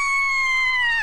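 A single sustained high-pitched scream imitating a hysterical girl fan at a pop concert, loud and close, holding steady before breaking off at the end, performed by a voice at an Indonesian stand-up comedy show.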